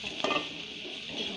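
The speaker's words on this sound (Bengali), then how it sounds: "পেঁয়াজ কুচি কিছুক্ষণ নাড়বো ভাজা একটু লাল লাল করবো হালকা" Chopped onion frying in a pan gives a soft, steady sizzle, with one brief scrape of a spoon stirring near the start, close and fairly quiet.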